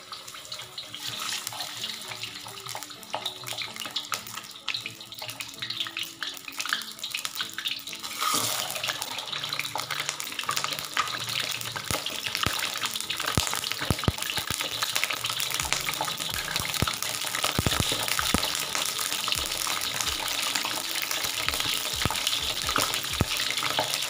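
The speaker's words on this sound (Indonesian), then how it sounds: "kita goreng dulu ikan masnya" Carp fish fry in hot oil with a dense, continuous sizzle and crackle that grows harsher and louder after the fish goes in. Pops and spatters stand out over the sizzle, and no voices are heard.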